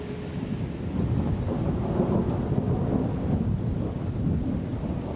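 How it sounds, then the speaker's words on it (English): A thunderstorm over the Baja desert rumbles low and continuous, with steady rain hissing beneath it and no voices, a dense roar that holds at an even loudness throughout. "they drop rain like water bombs, drenching some areas and leaving others bone dry."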